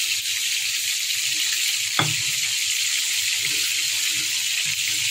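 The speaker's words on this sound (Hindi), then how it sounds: "लाल मिर्च, हल्दी, साथ ही डालेंगे थोड़ा सा पानी।" Water poured into a pan holding red chili and turmeric, setting off a steady broadband wash of pouring and sizzling with a brief sharp splash near the two-second mark, close and continuous with no talking.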